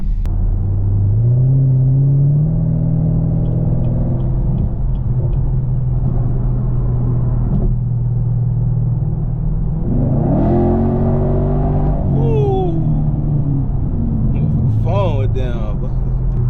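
A Chevrolet Camaro 2SS engine rumbles loudly at idle, then revs up with rising pitch in a couple of bursts, close and continuous.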